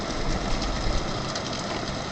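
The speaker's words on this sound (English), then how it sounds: "the sound of the rain is very loud" Heavy rain falls during a storm outside a home on a terraced farm, a loud, continuous broadband roar with a rumbling low end, steady throughout and without voices.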